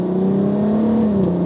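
Customized black VW Golf MK5 R32 with a healthy VR6 engine idling steadily, a smooth low hum with even harmonics, close and continuous with no one speaking.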